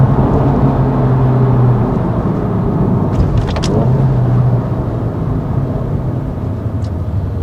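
A Subaru Impreza WRX STI (GRB) drives off with a steady, close engine and road drone that holds evenly throughout, with no talk over it.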